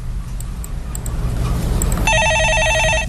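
A telephone rings on a stock-market call-in show, its bright repeating electronic tone starting partway through over a low background hum, steady and fairly loud.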